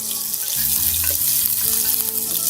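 Sliced shallots hitting hot oil with popped mustard seeds, a loud continuous sizzle and crackle with some stirring, close and alone.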